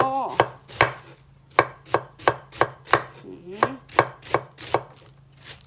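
Knife chopping food on a board in a home kitchen, about thirteen sharp, steady chops in an even rhythm, close and loud, with a low hum underneath.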